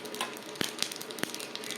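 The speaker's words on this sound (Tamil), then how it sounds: "கடுகு தாளிக்கிறேன்" Mustard seeds tempering in hot oil for a South Indian kootu, soft steady sizzle with scattered sharp pops and crackles over a short stretch.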